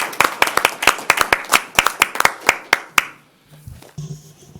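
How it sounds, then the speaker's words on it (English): A small group at a Metro Fire board meeting gives a brisk round of clapping: about fifteen sharp, close claps in quick uneven succession over three seconds, then the room falls quiet apart from faint murmuring. "It's a round of applause"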